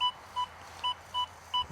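A Deus 2 metal detector signals over a buried target with five evenly spaced short electronic beeps, each a clean tone, sounding clearly over a quiet outdoor background.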